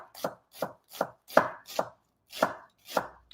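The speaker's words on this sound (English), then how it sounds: "we're just going to do like a nice little thin julienne on this onion" A knife cuts an onion into thin julienne on a board, eight crisp evenly spaced chops landing about every half second, close and clear with silence between strokes.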